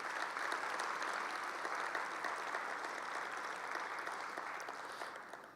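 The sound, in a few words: round of applause at event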